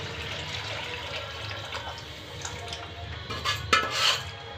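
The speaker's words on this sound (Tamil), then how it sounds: "இதுக்கப்புறம் அது வதங்கிட்ட உடனே நம்ம அந்த புளி தண்ணியை நம்ம ஊற்றிடலாம்" Tamarind water is poured into a simmering curry in a kitchen pot: a soft, watery splash and gurgle over low background noise, ending with a few light clinks of a vessel or utensil.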